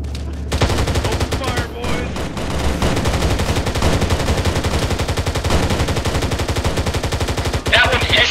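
Sustained heavy automatic gunfire at zombies in a Halo mod game, loud rapid overlapping bursts from several weapons running almost without pause, with a brief voice briefly audible amid the shooting.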